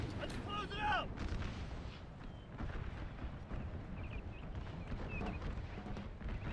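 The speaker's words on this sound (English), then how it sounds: "artillery is just taking the crap out of these guys" Artillery cannon fire in a Napoleon Total War American Civil War mod battle, a dense rumble of distant booms and crackling volleys under a voice talking, with whistling tones early on.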